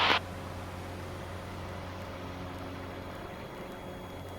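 The engine of a Cessna 150 drones steadily in flight, a constant loud hum with a steady low tone under broadband noise, opening with a brief sharp burst of static.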